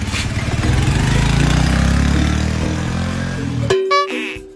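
A motorcycle engine runs with a steady, loud low rumble for about three and a half seconds before it cuts off abruptly, giving way to brief tonal sounds.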